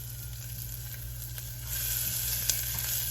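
Garlic and shallots fry in a pan with a steady close sizzle that grows louder partway through, with occasional small stirring clicks and a faint low hum beneath.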